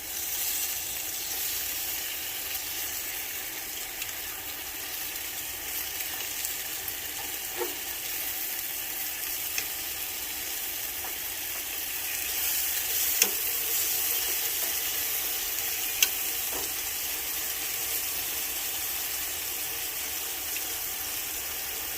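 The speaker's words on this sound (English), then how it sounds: "while we're cooking these hash browns here" Hash browns frying in a pan at an outdoor cowboy-style cook, giving a constant close crackling sizzle throughout, with a few sharp pops and faint clinks standing out above the steady hiss.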